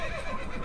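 A brief horse whinny from the Assassin's Creed video game, a short mid-loud neigh with a faint hoof clatter underneath.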